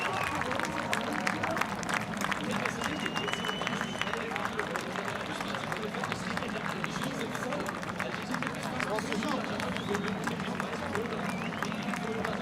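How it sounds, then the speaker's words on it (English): Spectators lining a triathlon course cheer and clap in a steady, far-off crowd roar of applause and babble, with a commentator talking over it throughout. "Well, a very appreciative crowd, as you can probably hear."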